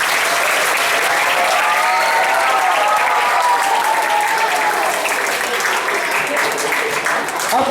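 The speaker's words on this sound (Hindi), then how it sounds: "बच्चों, अभी जोर से एक बार ताली बजा दो" Loud, sustained applause from a crowd of children fills a school Hindi Diwas celebration, a dense, continuous wash of clapping that holds steady throughout.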